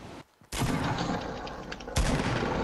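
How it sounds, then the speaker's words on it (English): Loud bursts of gunshots in the video game Fortnite, a dense volley after a brief silence and another sharp onset near the end, with no talk over it. "Are you getting shot at?"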